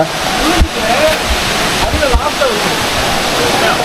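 Agaya Gangai waterfall in the Kolli Hills, a loud, steady broadband roar of falling water heard up close and continuous throughout.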